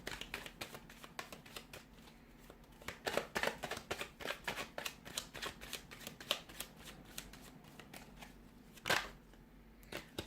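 Tarot cards being shuffled up close, a rapid series of crisp riffling flicks and soft slaps, quiet and continuous with no talking.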